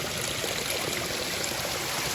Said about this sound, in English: You can see it just was sitting right next to this like little waterfall cascading down the rock here.